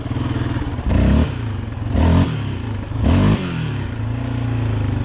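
A brand-new 2022 Yamaha Raptor ATV engine revs hard three times in loud, close bursts during wheelies, dropping to a rough idle between each surge.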